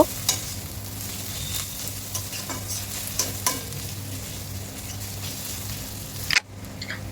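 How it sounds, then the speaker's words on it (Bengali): Ginger and garlic fry in oil in a pan, sizzling steadily while a utensil stirs and scrapes at intervals, ending with a sharp clatter. "আদা রসুনটা দিয়েও ভালোভাবে একটু ভেজে নেব"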